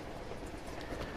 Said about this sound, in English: Drake's on a train.